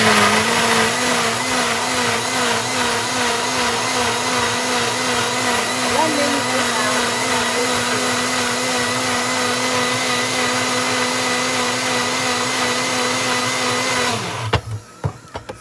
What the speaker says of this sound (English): I'll put it in my blender, which is gonna make some noise